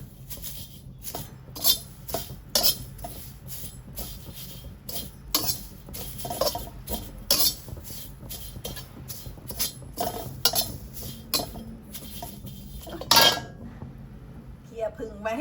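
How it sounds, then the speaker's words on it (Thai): Repeated metallic scraping and clinking of a ladle stirring chili flakes in a pan over low heat, steady irregular strokes, close by, with faint background noise. "คนบ่อยนะคะ ใช้ทัพพี"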